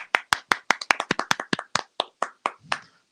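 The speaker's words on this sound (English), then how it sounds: "We got to clap for ourselves." Close, crisp hand claps from a few people in a talk radio studio, a quick irregular burst of roughly a dozen sharp slaps that thins out and stops within about three seconds.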